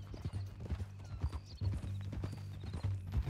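A horse's hooves clip-clop at a steady walking rhythm in Red Dead Redemption 2, close and clear over a low hum, with no voices over it.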